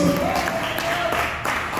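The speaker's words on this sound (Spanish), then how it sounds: "Denle un fuerte aplauso al Señor en esta hermosa noche" A church congregation applauds together in a steady wash of clapping, loud and close, with a voice speaking over it.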